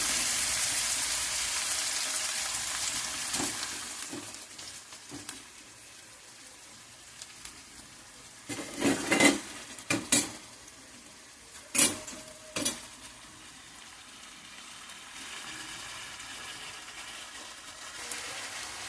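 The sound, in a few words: onions, green chillies and tomatoes frying in oil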